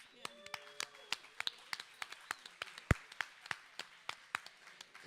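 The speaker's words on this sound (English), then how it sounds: "Can we get a round of applause, please?" Sparse, quiet applause from a small in-person group at an annual literacy fundraiser evening, scattered individual claps spaced through the room with one sharper clap standing out.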